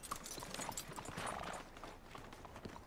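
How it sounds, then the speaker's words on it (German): Horse hooves clip-clopping in the Red Dead Redemption 2 video game, a quick irregular series of faint hoof strikes on hard ground, close but quiet, with no talk over them. "So, wir können das Pferd anbinden."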